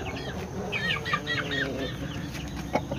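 A rooster at a backyard flock makes soft, repeated clucks and chatter nearby, with other chicken sounds and faint rustling around it.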